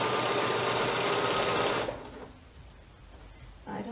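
A sewing machine runs a basting stitch on a T-shirt dress, whirring steadily and loudly up close for about two seconds, then stops, leaving quiet handling noise before a brief restart.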